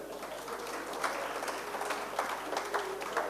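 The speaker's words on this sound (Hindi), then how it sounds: "ताली बजाओ" An audience at a Hindi comic poetry recital claps in a steady, moderately loud wash of applause, with a few sharper claps standing out as it goes on.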